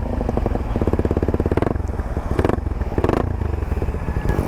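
A Suzuki Raider Fi motorcycle with its stock exhaust pipe revs in short bursts, a throaty, crackling exhaust rising and falling close by, with a few clattering knocks.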